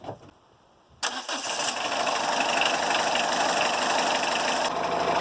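A Citroën Saxo engine cranks briefly after a quiet moment, catches with a burst and then settles into a steady, close idle that runs to the end.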